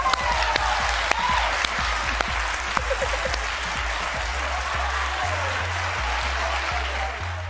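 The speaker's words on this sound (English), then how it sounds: "Clap if you love them." A studio audience claps steadily throughout, a dense, continuous wash of applause with some sharper individual claps standing out near the front, and no talking heard over it.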